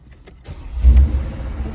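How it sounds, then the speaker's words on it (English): A Mercedes-Benz G63 AMG starts up: a short crank, then a loud low engine rumble that catches and settles into a steady idle, heard close up with no talking. "so let's go ahead and start the car."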